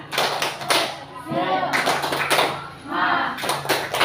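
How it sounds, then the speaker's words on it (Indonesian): A classroom of children doing the tepuk semangat spirit clap, rhythmic bursts of loud group clapping in patterned beats, with a teacher and kids chanting and talking over and between the claps. "Kita tepuk semangat dulu."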